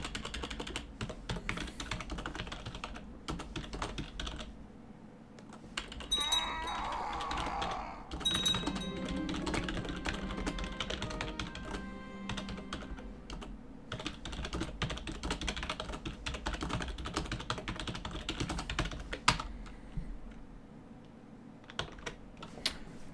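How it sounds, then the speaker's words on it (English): Continuous close typing on a computer keyboard, rapid irregular key clicks and clatter running steadily for the whole stretch with no talk over it. "Are you not going to fucking let me type all that?"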